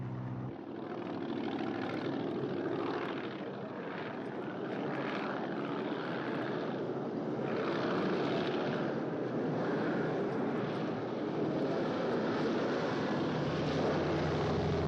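A steady, loud propeller engine drone fills the whole stretch, an aircraft roaring continuously in flight with a faint rise and fall in pitch.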